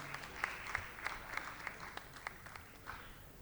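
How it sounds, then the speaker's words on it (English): An audience at a corporate finance forum claps in a thin, sparse way, with individual hand claps standing out as distinct sharp hits over a quiet room, fairly faint and distant. "I'll request members to please give a big round of applause"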